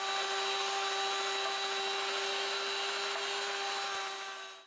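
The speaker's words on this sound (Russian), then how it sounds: "Подготовленный перец, баклажаны и морковь с луком перекручиваем через мясорубку." A steady electric meat grinder motor whirs loudly with a constant hum and grinding noise throughout as it minces peppers, eggplant, carrots and onion, then cuts off at the very end.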